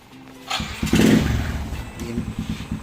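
A motorcycle engine cranks and catches near 0.6 seconds, then settles into a loud, steady idle with a rough, pulsing rhythm close by, and there is no talk.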